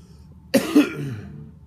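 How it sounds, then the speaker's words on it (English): A single sharp cough from a person with a brain tumor, close and fairly loud, bursting out abruptly and trailing into a brief rough rasp, heard alone in a quiet room. "See if I can suppress my cough that way."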